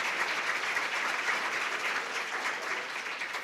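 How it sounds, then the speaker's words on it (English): An audience at an awards ceremony gives a standing ovation to the recipients, a dense, continuous wash of applause with no voices on top. "Please stand and applaud them."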